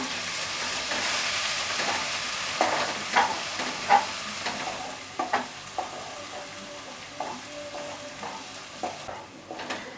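Crushed ginger, garlic and a generous amount of chili sauté in a hot pan for Schezwan chicken lollipops, a steady sizzle broken by sharp scrapes and clinks of a spoon stirring, with no voices.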